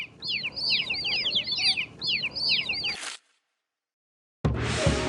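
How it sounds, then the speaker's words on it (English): Cartoon hen clucks repeat in quick bright runs in a children's mystery maze game, stopping abruptly before a short silence and a burst of noisy sound effect. "A mother chicken is called a hen."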